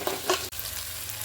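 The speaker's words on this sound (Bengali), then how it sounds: "দেখুন এইভাবে আমি নাড়াচাড়া করতে থাকবো" Ginger spice paste is stirred as it fries in oil in a pan, with a couple of quick scraping strokes over a steady low sizzle, heard up close.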